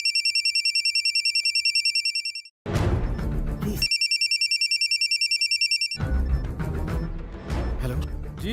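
A telephone rings in a Hindi film scene with a high, repeating electronic ringtone pulsing steadily in two long stretches. Loud dramatic music and impacts burst in between the rings.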